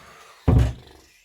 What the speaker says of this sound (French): elle a ouvert la porte d'entrée